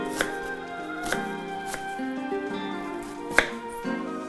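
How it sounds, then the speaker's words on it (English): A knife chops red onion on a board, making several distinct, evenly spaced taps up close, one landing harder than the rest, with no talk. "Next, we're gonna chop up some red onion."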